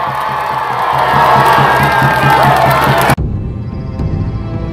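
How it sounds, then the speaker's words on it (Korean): Rally crowd at a Seoul mayoral campaign announcement cheering and shouting loudly, with applause under the roar, cut off abruptly to near quiet partway through. "다시 한번 뜨거운 박수 부탁드립니다"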